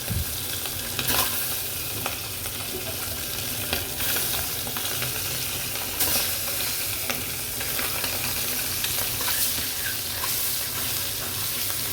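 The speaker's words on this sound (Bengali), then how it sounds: "ডিমটা আমি সেদ্ধ করে ফেলেছিলাম, এখন আমি ভাজবো।" Boiled eggs rubbed with turmeric, ginger and garlic sizzle steadily in a pan of hot oil, a close, continuous frying hiss with occasional soft stirring scrapes and no voices.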